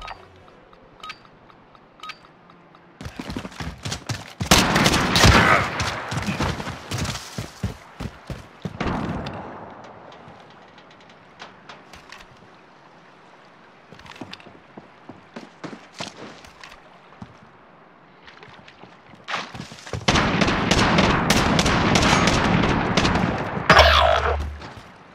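Call of Duty Modern Warfare gunfight with close, loud automatic bursts and single shots in clusters, long stretches of rapid fire separated by quieter gaps with sparse pops and thuds.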